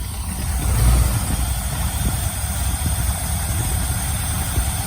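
A station wagon's engine, just revived after sitting for weeks, runs at a steady low rumbling idle with choke adjustments, close and continuous with a slight swell near the start and no talk.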